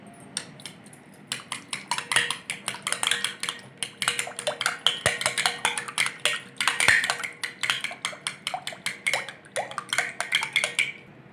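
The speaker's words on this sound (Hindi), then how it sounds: "अच्छी तरह से फेंट देंगे।" A utensil whisks eggs with black pepper powder and mint in a bowl for a Spanish omelette, giving rapid, steady clinking strokes against the bowl that run close and loud throughout.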